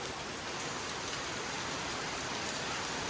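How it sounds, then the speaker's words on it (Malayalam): Heavy rain pours steadily in a forested area, a dense, unbroken hiss of drops drumming on surfaces that stays loud and even throughout with no voices. "ഇതാട്ടോ മഴൻ്റെ അവസ്ഥ. ഹെവി മഴ."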